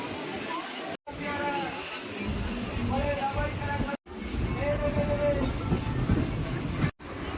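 A train pulls out of Bongaon Junction railway station with a faint, low rolling rumble and intermittent tonal squeals, heard quietly under nearby voices.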